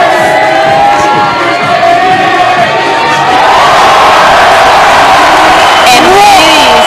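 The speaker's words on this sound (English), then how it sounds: "The crowd is going wild for that." Crowd cheering and shouting loudly at an indoor team bouldering competition, a sustained roar of whoops and yells that swells higher near the end, with a commentator talking over it.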